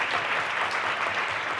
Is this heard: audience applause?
yes